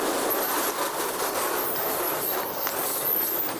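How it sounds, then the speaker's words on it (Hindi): A slow-moving goods train creeps out at an Indian railway station, giving a steady broadband rumble and hiss of rolling wagons with faint high squeals, continuous and fairly close, with no speech. "धीमे धीमे मालगाड़ी ने भी अपनी जगह से सरकना शुरू कर दिया"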